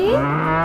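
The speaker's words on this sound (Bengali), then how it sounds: "গরু বাছুর" A single short, deep moo from a cow, loud and close, with a steady tone that bends slightly upward at the start.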